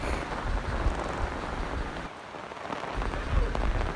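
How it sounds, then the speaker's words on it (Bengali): Heavy rain pours down during a storm, a dense, steady roar close to the microphone that eases briefly around the midpoint before surging back. "প্রচণ্ড বৃষ্টি হয়েছে"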